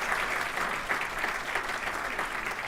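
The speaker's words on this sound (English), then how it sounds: "Another round of applause for Donna." Applause for Donna at a Torrance Area Chamber of Commerce regional address rises from the audience as a steady, moderately loud wash of many hands clapping, alone with no one speaking.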